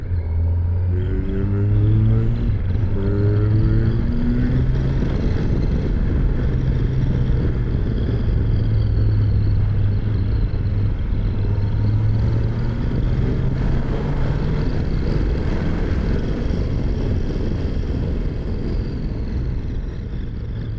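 Kawasaki Versys 1100 SE motorcycle riding on a road, a loud, steady engine drone with rising and falling tones as it accelerates and shifts, mixed with constant wind rush and no speech.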